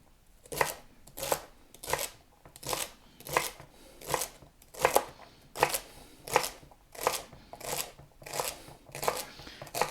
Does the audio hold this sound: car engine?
no